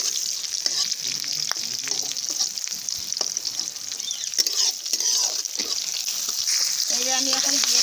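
Chilies for a Bengali chutney fry in a pan with a steady, loud sizzle, broken by scraping stirs and soft clinks that grow busier toward the end.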